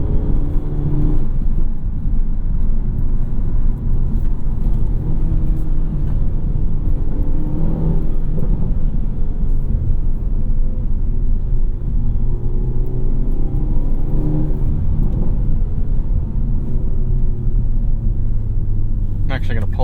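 A 2024 Hyundai Elantra N with a six-speed manual climbs uphill through corners, its engine droning and rumbling steadily in the cabin with slight rises and falls under the throttle, while someone talks over it throughout.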